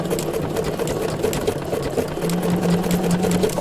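A Bernina sewing machine stitches decorative circles on stabilized fabric with a circular embroidery attachment, giving a steady, close, continuous mechanical whir that holds level throughout with no talk.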